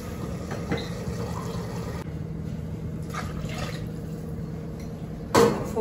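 Water from a tumbler pours steadily into a pot of soaking rice for a one-pot Schezwan rice, a soft continuous splash with a brief louder clatter near the end.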